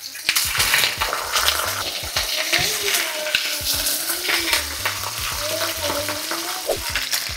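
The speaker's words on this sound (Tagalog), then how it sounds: "Mabilisang sear lang naman to." Beef searing in a hot pan for beef pares, a loud, close, continuous sizzle and crackle with scraping and stirring clatter, and a voice speaking over it at times.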